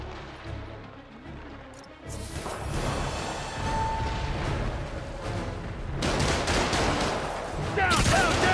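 Bursts of gunfire from enemy shooters in the 2018 Spider-Man game, dense volleys and rapid automatic fire with whooshes and booms, loud and nearly continuous, mixed with game voices.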